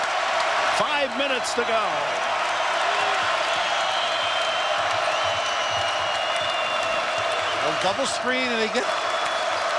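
A basketball arena crowd at a UCLA Bruins vs. Arizona Wildcats college game roars and applauds in a loud, sustained wash of noise while a commentator talks over it throughout.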